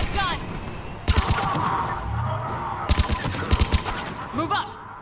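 A mounted gun fires in bursts during a Mass Effect 3 firefight, with rapid thudding reports and sci-fi effects sounding under a soldier's shouted commands.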